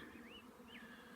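A honeybee swarm gives off a faint, steady low hum, with two brief rising whistle-like chirps passing above it.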